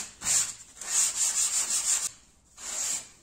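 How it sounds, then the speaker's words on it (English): Sandpaper rubs lightly over a foam wing core for a one-meter glider, close and alone, in a run of quick back-and-forth strokes, a short pause, then another stroke. "As you can see, the cut is not perfect, so we will have to sand it."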